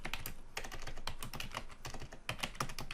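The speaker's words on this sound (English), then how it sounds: "then type into the text box" Rapid, continuous keystrokes on a computer keyboard fill the clip, with crisp clicks in irregular bursts, close and fairly loud, no speech.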